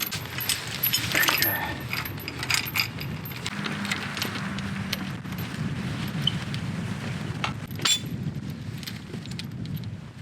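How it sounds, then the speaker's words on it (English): A metal chain is wrapped around a field gate post outdoors, giving off scattered clinks and jangles over a steady background rumble with faint voices. "I'm gonna put the chain around it, relatively tight"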